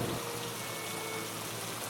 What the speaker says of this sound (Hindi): तभी जोर जोर से बारिश होने लगी और बारिश के साथ साथ ओले भी पड़ने लगे।